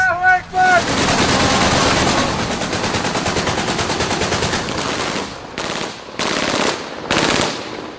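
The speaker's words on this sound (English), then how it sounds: "Another long burst of rebel gunfire there." A long, loud burst of rapid automatic rebel gunfire in a combat zone rattles on for several seconds, followed by shorter separate bursts.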